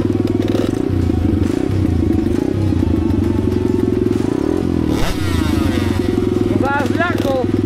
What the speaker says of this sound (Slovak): No, už sme naštartovali motore.